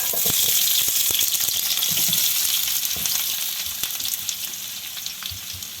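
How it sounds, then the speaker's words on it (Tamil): Onions sautéing in a pan for egg noodles, a steady loud sizzle of frying throughout with scattered sharp crackles and stirring clicks, no voices. "நான் வெங்காயத்தை வதக்க போகிறேன்"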